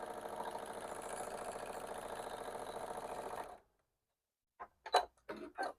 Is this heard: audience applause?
no